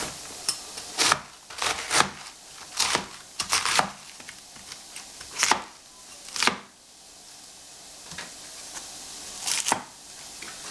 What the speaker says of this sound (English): Cut some cabbage at this time.